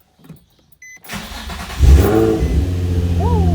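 Nissan 350Z engine cranking and catching after a camshaft position sensor replacement, a short quiet click then a loud start settling into a steady close idle.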